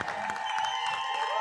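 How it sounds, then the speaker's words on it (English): Crowd applause and cheering for two roller derby teams, Las Tejanas of Alamo City and Springfield Roller Derby, after a WFTDA game, with steady clapping filling an arena along with some tonal PA or ambient sound. "can we please, huge round of applause for these two teams"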